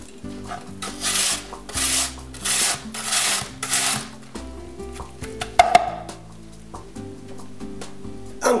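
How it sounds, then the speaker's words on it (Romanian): Peeled apples are rubbed against a kitchen grater in repeated rasping strokes, about six evenly spaced passes close up, then a few lighter scrapes and small clinks follow. "le voi îndepărta coaja, iar apoi le voi da prin răzătoare"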